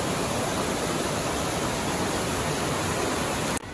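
A Colorado mountain creek and waterfall rush steadily, a loud, dense, unbroken roar of flowing water close by, with no voices.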